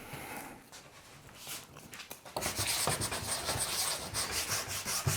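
Cold cross-country ski wax is rubbed onto Nordix skis in a steady, scratchy, close-up rhythm. The strokes start soft and grow louder and faster partway through, and no one speaks.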